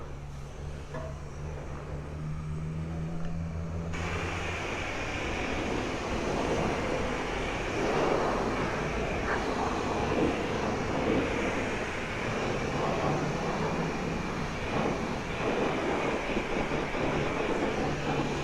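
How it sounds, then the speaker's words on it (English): High pressure rinse spraying a Kawasaki Ninja 400 motorcycle at a wash, a loud, steady broadband hiss of water jet that starts abruptly after a few seconds and continues without pause. "Now I need the rinse. Where's the rinse? High pressure rinse."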